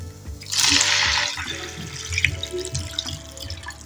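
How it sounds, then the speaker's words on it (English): Four cups of water pour into a cooking pot, a loud rushing splash for about a second, then quieter trickling and bubbling as the liquid settles, close by. "And then the 4 cups of water."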